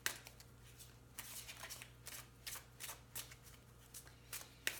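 Tarot cards are riffled and snapped in quick repeated bursts, with soft slides and taps between them, close and fairly quiet.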